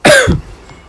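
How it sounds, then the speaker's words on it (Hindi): A single loud, close cough: one sharp harsh burst followed by a brief rougher throat sound, heard alone with no talking. "देखो खांसी जा ही नहीं रही यार मेरी"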